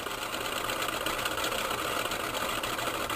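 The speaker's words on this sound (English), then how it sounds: "let it spin down, and we will try a different rotor and see what happens" Electric motor with its rotor spinning down after the power is cut, a steady broadband whir and hum held at even loudness throughout, with no voices.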